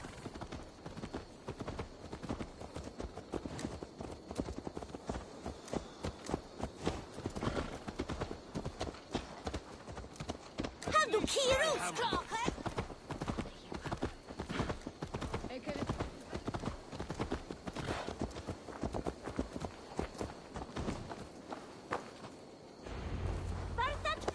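Horse hooves clip-clop in a steady, fast rhythm in Assassin's Creed Valhalla, a continuous run of close, evenly spaced hoofbeats with a brief neigh midway and game voices talking over it.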